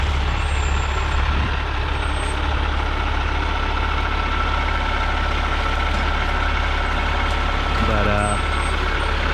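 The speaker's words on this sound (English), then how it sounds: "It's hard to explain to folks sometimes just how big these trucks are." A large truck maneuvers between trees at a septic system installation site, its heavy engine idling loud and close with a steady low rumble, a short hiss of air near the end, and someone talking over it.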